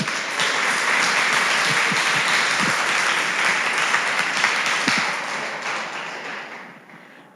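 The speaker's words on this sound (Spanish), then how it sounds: "Dele un aplauso al Señor." A church congregation applauds loudly and steadily during a Spanish-language sermon, dense clapping filling the room before it tapers off near the end.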